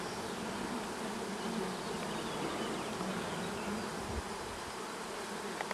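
Honeybees at a master beekeeper's apiary, working hard on an acacia nectar flow, make a dense, constant drone from many bees close by at a teaching hive.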